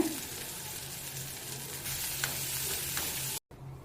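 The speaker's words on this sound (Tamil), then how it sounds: "வெங்காயத்தை கொஞ்சம் நல்லா வதக்கிக்கோங்க" Chopped onion, curry leaves and green chilies sautéing in a pan, a steady close sizzle with a few stirring clicks, cutting off briefly near the end.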